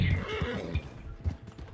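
A horse in Red Dead Redemption 2 Online whinnies loudly over a few clip-clopping hoofbeats, with a voice briefly in the mix.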